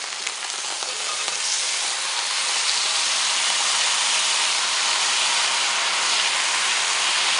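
Whole chicken sizzling on a Ninja Sizzle Pro XL indoor grill, a dense, steady hiss of spitting grease that runs continuously and loud without pause.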